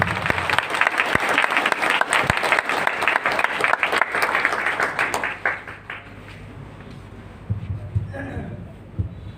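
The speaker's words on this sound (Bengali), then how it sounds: "সবাই করতালি দিয়ে তাকে সম্মানিত জানাবেন।" Audience applause fills a convention hall at a program event, a dense steady clapping from a large crowd that carries for several seconds, then thins and fades out, with a voice speaking faintly near the end.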